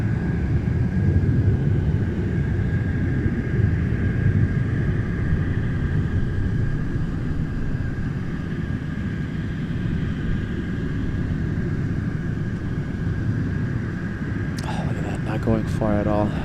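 An airplane departs Anchorage's Ted Stevens International Airport, heard as a steady low jet roar and rumble rolling on throughout, with a brief voice near the end.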